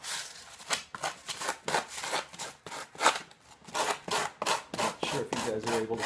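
Rhythmic rasping strokes of a blade and sanding against soft foam, close and fairly quiet, repeating steadily with short pauses.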